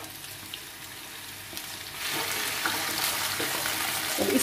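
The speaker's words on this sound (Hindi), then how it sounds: "इसको भी थोड़ी देर तक इसी तरह से हिलाकर फ्राई करना है।" Drumstick pods and potatoes fry in a pan while being stirred, a close, continuous sizzle that grows louder and brighter partway through, with faint scraping from the stirring and no voices.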